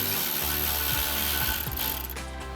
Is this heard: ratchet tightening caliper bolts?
yes